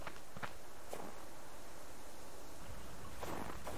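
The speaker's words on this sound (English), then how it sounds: "I think I'm hearing my own footsteps." Player character's own footsteps in the survival game Subsistence, a few soft crunching steps spaced irregularly over a steady ambient hiss.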